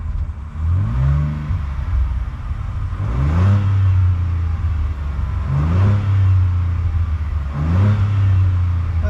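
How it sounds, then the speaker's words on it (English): A Ford Bronco Raptor with SPD downpipes in quiet mode, revved four times in an even rhythm, each rev a deep swelling roar that rises and falls back to a rumbling idle, loud and close. "let's give it a few revs"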